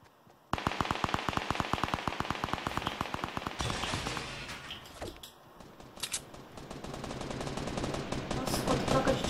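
Rapid bursts of Fortnite gunfire, a long fast automatic volley followed by scattered shots and explosions, loud and alone.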